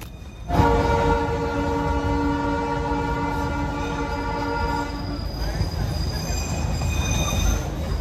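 Darjeeling toy train on the Kurseong mountain line, its long sustained horn blaring close and loud over rumbling wheels for several seconds before dropping away, leaving steady running noise and a faint high squeal.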